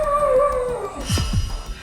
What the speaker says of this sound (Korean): 짖고 있네.